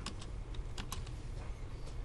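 Quiet, rapid key clicks of typing on a computer keyboard, an uneven run of taps at close range with no talking.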